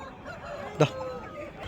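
A rooster at the Nallapadu rooster market lets out one short, sharp call midway through, standing out over a low, constant murmur of market background noise.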